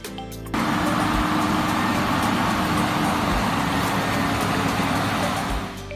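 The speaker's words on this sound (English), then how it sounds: "it is clear that the truck continues to persevere, eventually freeing itself from the troublesome mud-covered road" A heavily laden logging truck grinds through a muddy forest road, its engine roaring steadily and loud throughout with a rough, continuous drone.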